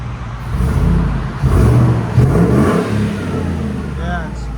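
A 2014 Ford Raptor with a 6.2L engine and Carven TR-Series exhaust revs up loud and close, the throaty roar rising and holding in surges, with people talking over it.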